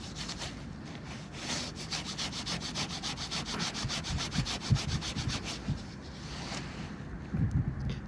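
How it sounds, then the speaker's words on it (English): A dug-up lump of dark-coloured smelt is rubbed by hand outdoors, giving a quiet, rapid, rhythmic scraping and scrubbing that repeats steadily for several seconds, faint and close with some wind noise. "Let's give it a rub."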